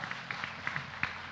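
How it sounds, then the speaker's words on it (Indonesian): A short burst of applause from a church congregation, scattered claps rising and falling, moderately loud with no talking. "Sekali kita berikan tepuk tangan meriah buat Tuhan."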